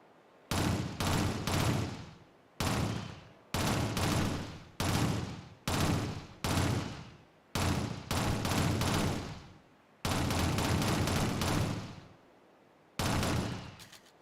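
Automatic weapon fire in Shadowrun (2007) rings out in repeated short bursts, each a loud clattering volley with trailing echo, separated by brief pauses.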